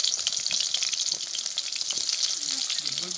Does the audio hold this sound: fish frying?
yes